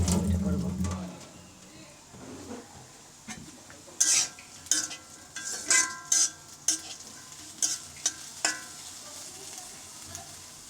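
Onion, green chilli and garlic frying in a pan, a low sizzle broken by a run of sharp stirring scrapes and clinks of a spatula against the pan, close and intermittent.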